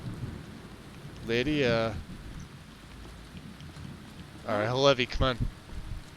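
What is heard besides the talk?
rain and thunder in the video game From the Mire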